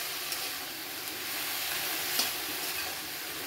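Potato and pointed gourd sabzi with chilli powder and spices being stirred in a pan, a steady soft sizzle with faint scraping and a brief louder clink, no voices.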